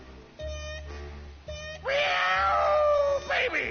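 A cat in Grim Fandango Remastered meows and yowls, a couple of short cries followed by a long wailing caterwaul, fairly loud and close over a low game hum.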